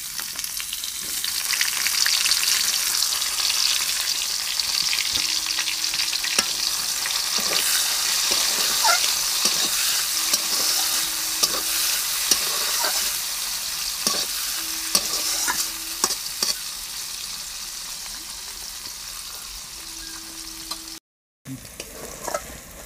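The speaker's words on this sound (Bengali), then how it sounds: "পেঁয়াজগুলো ভালোভাবে ভাজা হয়ে গেছে" Sliced onions frying in hot oil with bay leaf, cumin and whole spices for a chicken and pumpkin curry, a steady close sizzle with repeated scraping stirs throughout and a brief cut near the end.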